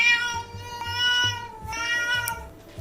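A cat meows repeatedly, several drawn-out, tonal calls close by, with brief pauses between them.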